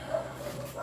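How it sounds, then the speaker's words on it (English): A dog barks once or twice at a moderate distance, short yips over a faint steady background hum. "I just listen to the dogs bark and the kids play."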